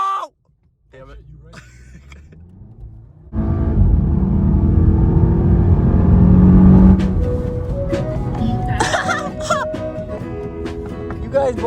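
A Volkswagen GTI accelerating hard, the engine note jumping into a loud rising roar after a short quiet stretch, climbing through the pull and then easing off, heard from inside the car.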